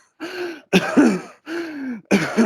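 A person vocally imitates a dry, harsh cough of the kind that comes from a completely dry mucous membrane: four short, raspy, throaty bursts close to the microphone, separated by brief pauses.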